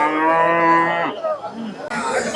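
Cattle at a cow market moo loudly and close by, starting with one long sustained low moo. Softer lowing and faint crowd chatter follow.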